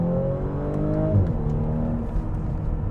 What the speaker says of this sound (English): I think the shifting up noise is definitely my favorite part.